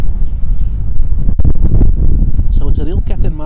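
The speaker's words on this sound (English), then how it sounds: "with the wind as it is, and it's really gusting now" Strong wind gusts buffet the microphone at a cricket ground, heavy low rumbling blasts throughout while a voice talks over it.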